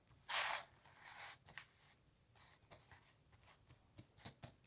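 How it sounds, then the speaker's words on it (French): Tarot de Marseille cards are cut and drawn from the deck, starting with a sharp papery riffle up close. Lighter slides, taps and soft card snaps follow at an irregular pace, quiet and near. "je vais couper et je vais sélectionner mes 3 cartes"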